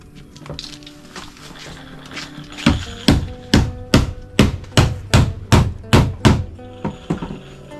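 Nails being hammered into wood, with about a dozen sharp, evenly spaced blows ringing out loudly and close after some quieter handling noise at the start, then a few softer taps at the end.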